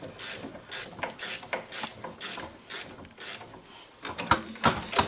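A ratchet wrench tightens a bolt on replacement snowplow spring hardware, giving a regular series of sharp clicking bursts in quick rhythm, close and clear with no voices.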